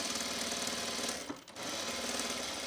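A sewing machine fitted with a really big needle chugs steadily and loudly nearby, with a rapid mechanical pulse that dips briefly for a moment before resuming.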